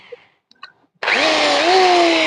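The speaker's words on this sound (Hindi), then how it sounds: "अब ड्रिल मशीन देखिए चल रहा है" An electric drill machine starts after a clicking sound as it is plugged in, then runs continuously with a loud, steady whine whose pitch rises slightly.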